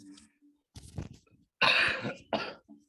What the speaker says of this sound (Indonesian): maaf ya kalau ganggu suara batuknya